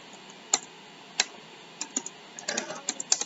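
Typing on a computer keyboard while entering commands, heard as scattered single key taps and quick bursts of clicks, close and fairly quiet, with no voices.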